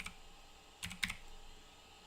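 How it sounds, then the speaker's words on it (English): Someone types on a computer keyboard in a workshop while setting up a 3D printer board. A few faint, quick key clicks come in short clusters over quiet room hiss. "I'm typing over here."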